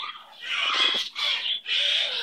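A pet bird gives chuckling, chattering calls in three close bursts with short breaks between them, fairly near and clear, with no talking over it.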